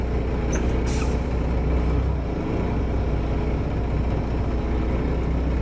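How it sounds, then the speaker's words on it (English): A truck's service air brake is held to a full stop inside the cab, giving a sharp burst of air near the start over a steady low engine rumble and hiss. "we should come to a complete stop when we hit the service brake."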